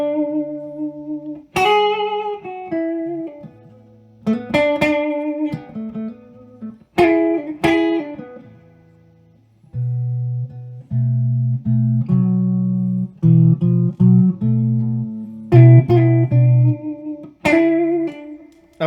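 An electric guitar plays through a Two Rock Classic Reverb Signature amp with its reverb engaged, clean plucked chords and single-note phrases ringing out with lingering tails, loud and close with pauses between phrases and no talk.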